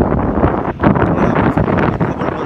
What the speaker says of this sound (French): Le vent est froid.